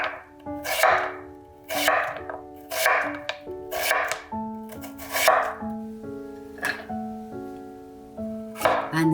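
A knife slices radish into flat pieces on a board, giving about nine crisp, evenly spaced chopping strokes close up with a faint ringing tail after each cut.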